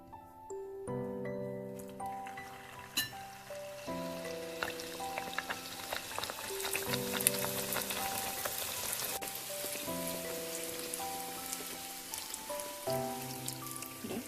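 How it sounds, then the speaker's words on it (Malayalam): Rolled bhatura dough, medium thick, is deep fried in hot oil. A steady bubbling sizzle runs throughout beneath prominent melodic background music. "ഇനി നമുക്കിതൊന്ന് വറുത്തെടുക്കാം."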